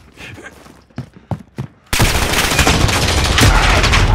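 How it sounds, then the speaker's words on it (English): Call of Duty: Modern Warfare gunfire: a few scattered shots and footsteps, then a loud, dense burst of rapid automatic fire that keeps roaring without a break. "I hear you shooting people,"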